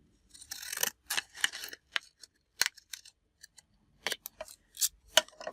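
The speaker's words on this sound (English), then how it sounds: "I'm just going to use my scissors on that one." Deckled scissors snip through a paper journaling tag in a string of quick, close crisp cuts, bursts of several snips separated by brief pauses.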